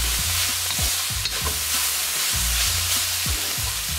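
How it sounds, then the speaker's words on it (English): Basil chicken (gai pad krapao) stir-fried in a pan with fresh basil leaves: a steady, loud sizzle with repeated scraping strokes of the spatula, no voices. "And we're going to just stir fry this till the basil is wilted."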